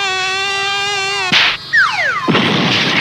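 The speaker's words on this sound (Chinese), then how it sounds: "随时就会有苍蝇飞到我的身上" Swarms of flies buzz close around a school in a snake-infested village: a loud, steady whine that wavers and slides in pitch, broken by sudden noisy bursts as insects pass near.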